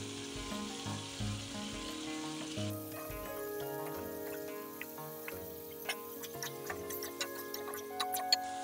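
About a kilo of chicken goes into hot spiced oil for a potato chicken curry, followed by a steady close sizzle with small pops and crackles throughout.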